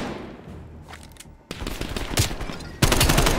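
Automatic weapon fire in a Call of Duty: Black Ops Cold War mission, scattered distant shots at first, then dense rapid bursts growing louder and closer, ending in a sustained heavy fusillade.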